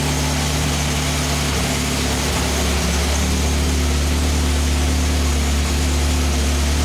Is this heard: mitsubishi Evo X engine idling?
yes